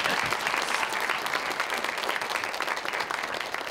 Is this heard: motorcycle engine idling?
no